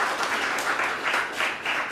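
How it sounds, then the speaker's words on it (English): Audience applause for Priest Robbie at a live storytelling event, a steady wash of many hands clapping close and loud for under two seconds with no voices over it. "Can we give Priest Robbie a round of applause?"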